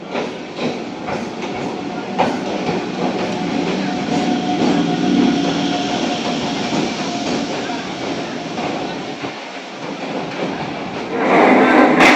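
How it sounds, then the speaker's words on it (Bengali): A Majerhat local train rumbles steadily into a Kolkata station with a constant rolling roar and faint clatter, growing louder near the end, no talking. "এখন ঢুকছে মাঝেহাট লোকাল"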